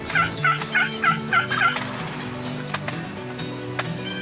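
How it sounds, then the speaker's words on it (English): A wild turkey gobbles in a quick run of about six calls early on, fairly close, followed by outdoor morning ambience near timber with a few faint clicks and knocks. "That bird that I've been working all morning is still gobbling"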